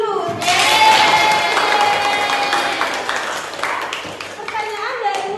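Schoolchildren in a classroom clap together for a classmate's question, a brisk burst of applause that tapers off over a few seconds, with a teacher's voice and some children's voices heard over it.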